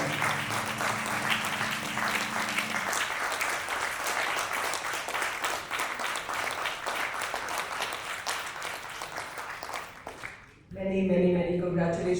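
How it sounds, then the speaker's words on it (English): Audience applause at an awards ceremony for a lifetime achievement award, dense sustained clapping from a large crowd over an underlying tone, fading after about ten seconds as a voice begins speaking. "Have a louder applause."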